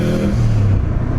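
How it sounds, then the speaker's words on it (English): Engine of a 400hp Subaru STi fitted with an external wastegate, heard from inside while driving: a loud, steady low rumble with a rising drone, short and continuous. "that external wastegate sounds so good"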